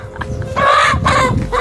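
Chickens clucking loudly and close in a short comedic backyard scene, a few agitated squawking bursts with no talk.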